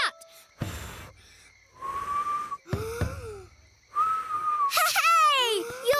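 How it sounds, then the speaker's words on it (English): A cartoon lion lets out a series of wavering, breathy whistles, some short and some drawn out, ending in a burst of rising and falling whistled notes; the whistling is voiced by a performer. "You're whistling!"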